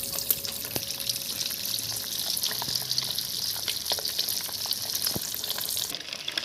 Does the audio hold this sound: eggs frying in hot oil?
yes